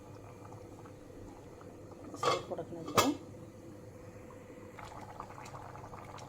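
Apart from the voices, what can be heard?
roop chand fish curry boiling in pot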